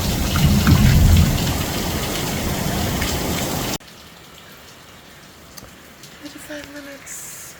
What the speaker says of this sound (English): rain, rain, rain. A rainy day in Jamaica.